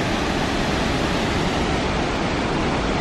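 Waterfall in Hawaii roaring as a steady, dense broadband rush, loud and continuous with no voices.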